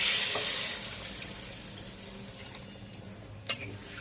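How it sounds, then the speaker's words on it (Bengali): Water being poured into a cooking pot of fish curry that has just been fried down with spices: a hissing sizzle and bubbling rush at the start that settles into a softer, steady simmer with a few faint clinks. "এবার জল দিয়ে দিচ্ছি।"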